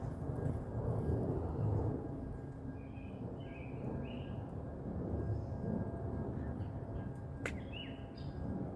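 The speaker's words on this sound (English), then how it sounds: "that sounds like a plane" A low, steady airplane-like rumble overhead fills the background throughout, fairly faint and distant, while small birds chirp intermittently nearer by.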